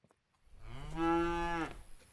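A single long, low video game cow moo in Contraband Police, with a rising, rich harmonic tone, loud and close, lasting over a second before cutting off.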